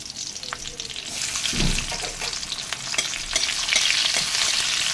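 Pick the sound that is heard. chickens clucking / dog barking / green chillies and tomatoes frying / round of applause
green chillies and tomatoes frying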